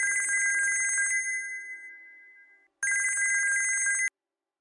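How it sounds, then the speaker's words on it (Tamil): Electronic telephone ringtone in a Tamil TV serial episode, with two loud, bright bursts of rapidly warbling ringing, each over a second long, separated by a fading tail and a short silence. "ஃபோன் அடிச்சுட்டே இருக்கேன், எடுக்க மாட்டேங்கிறீங்க."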